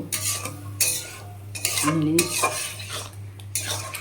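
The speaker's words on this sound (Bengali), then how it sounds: "কাজেই কষিয়ে কষিয়ে চচ্চড়ির মতো করে নেব।" Lote fish chorchori curry being stirred and reduced in a pan: scraping and clinking of a spatula against metal in bursts, with light sizzling and a steady low hum underneath, close by.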